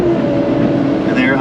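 A CAT 308 excavator engine idles down during land clearing in Central Florida, a loud, close, steady diesel drone with a slight shift in tone near the end.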